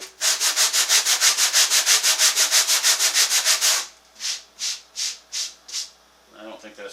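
Hand sanding on a stained Victorian end table, first a quick run of about twenty even back-and-forth strokes, then a pause and a slower set of five or six strokes, close and fairly loud.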